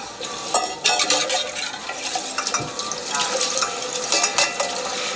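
Liquid pours and splashes into a cooking pot in a steady, close, bright gush with bubbling and stirring, while people talk over it.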